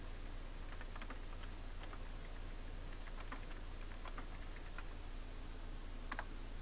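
Computer keyboard typing, faint and sparse, with scattered key clicks in small irregular bursts over a steady low hum, no voices.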